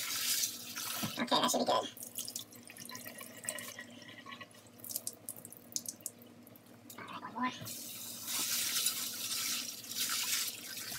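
Tap water gushes into a sink as fine aquarium gravel is rinsed in a strainer, coming in strong bursts at the start and end with quieter trickling and sifting between, while someone speaks briefly.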